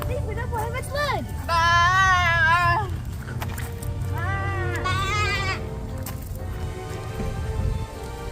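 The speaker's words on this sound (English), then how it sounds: "here's the sheep" Sheep bleating at a livestock exhibit, two long wavering cries close by with a short call before them, over steady crowd murmur and background voices.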